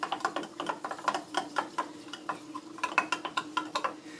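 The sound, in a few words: stirring chia seeds into mango pudding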